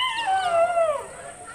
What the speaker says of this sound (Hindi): ये सफेद वाला ऊपर ही रहता है इनका कुत्ता ऊपर भौंक रहा है